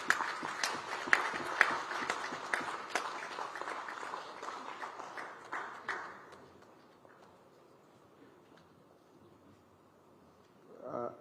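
An audience at a higher education conference launch applauds after a speech, dense clapping that gradually thins and fades out over several seconds, followed by near quiet and a short voice at the end.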